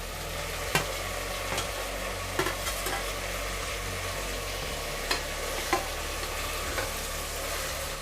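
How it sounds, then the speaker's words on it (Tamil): Four chopped tomatoes are stirred into a frying prawn biryani masala, giving a steady close sizzle with occasional sharp scrapes and clinks of a spoon against the pan. "இப்போ நம்ம கட் பண்ணி வச்சுருக்க 4 தக்காளியும் இதில் சேர்த்துடலாம்."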